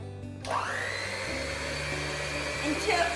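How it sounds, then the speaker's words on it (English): Three cracked eggs being beaten for a vanilla cake's wet mixture, with sugar and oil nearby: after a brief quiet moment, an electric beater whirs up into a steady, continuous motor whine that holds close and even to the end. "Now it's time to beat the eggs."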